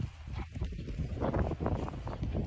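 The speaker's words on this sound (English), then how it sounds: "Just brought Brian out for a ride" Hooves of a ridden horse clip-clop close by in a steady walking rhythm during a rainy outing at a horse show.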